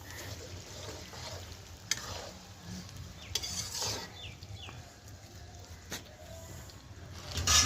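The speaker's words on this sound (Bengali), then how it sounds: "পেঁয়াজ ভাজা হচ্ছে" Onions fry and are stirred in a pan at an outdoor picnic cookout, a soft sizzle broken by scattered scraping clicks of a utensil, with faint background bustle and a louder clatter at the end.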